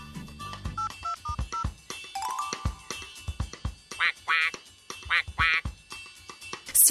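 Cartoon ducks quacking in the animated farm series Tractor Tom: a run of loud, nasal quacks in quick bursts, following a string of short electronic beeping tones, with no talking.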